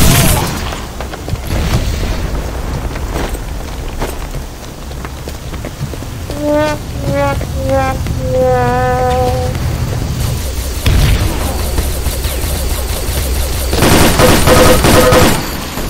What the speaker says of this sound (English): Watch that stray bomb go right on top of you.